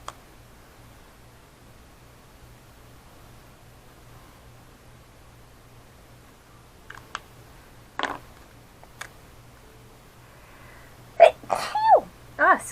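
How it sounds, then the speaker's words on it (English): After a long quiet stretch of faint room hiss, a short burst comes, then a quick cluster of loud, close sneezes near the end. "Did not mean to just blow y'all's ears out with some sneezes."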